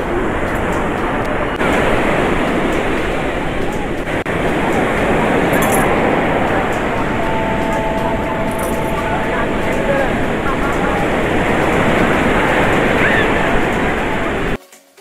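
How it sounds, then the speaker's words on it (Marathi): Sea waves wash continuously onto Ganpatipule beach in the Konkan on an afternoon turning rainy, a loud, broad, unbroken roar of surf filling the whole stretch before stopping abruptly. "बघा किती समुद्राचा किती खळखळाट आहे।"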